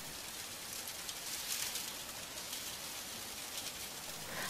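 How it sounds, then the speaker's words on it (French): Steady rain drumming on a surface and streaming down window panes, a soft continuous hiss with scattered drops, even and moderately quiet with no voices. "La pluie tombe toujours et coule le long des vitres."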